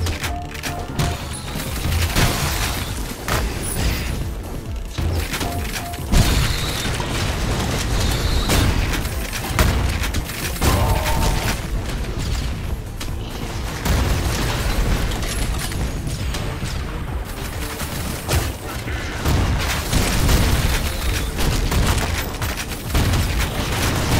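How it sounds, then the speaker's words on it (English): Grenade explosions in the retro-style first-person shooter Ion Fury: a dense, loud barrage of booming blasts and crashing bursts that runs nonstop and heavy in the low end, with game noise piled on top. "Alright, grenade time."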